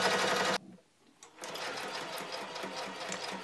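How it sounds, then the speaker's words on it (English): A sewing machine runs a straight stitch along the edges of paper pages in a mini album, whirring steadily and loudly, pausing briefly near the start, then running again continuously. "I'm going to use a straight stitch and intentionally make it somewhat crooked, and go all along the edges as well as along the torn edge."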